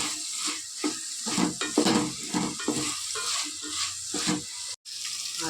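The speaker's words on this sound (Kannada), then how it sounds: "ಎಲ್ಲ ಮಿಕ್ಸ್ಡ್ ವೆಜಿಟೇಬಲ್ ಫ್ರೈ ಮಾಡ್ತಾಯಿದ್ರೆ" Mixed vegetables fry and sizzle in a pan for a thaldha curry, with steady frying hiss broken by repeated stirring scrapes and clinks of a utensil against the pan, close and fairly loud, with no talking.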